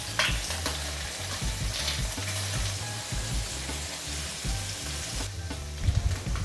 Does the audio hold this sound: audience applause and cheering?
no